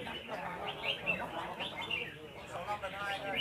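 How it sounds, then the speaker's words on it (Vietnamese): Repeated bright chirping calls from a songbird at a bird-singing contest in Phu Xuyen, Hanoi, come in quick bursts, moderately loud against a busy background with faint voices. "chú chim cũng cất rất nhiều tiếng ché để đè nẹt đối thủ"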